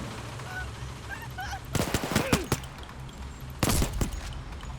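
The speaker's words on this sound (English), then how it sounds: "No point shooting the camera, but let's do it for funsies." Two loud bursts of rapid gunfire in the heist shooter Payday 2 sound fairly close, each followed by ringing echoes and clattering debris. Faint background noise fills the quieter stretches before and between the bursts.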